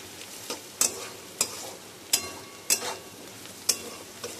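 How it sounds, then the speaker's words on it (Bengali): Potato and onion frying in oil while being stirred, a soft continuous sizzle broken by about six sharp, regularly spaced spatula clacks against the pan, close and without any talking. "আমি একটু ভালো করে এটা ভাজা ভাজা করে নিচ্ছি"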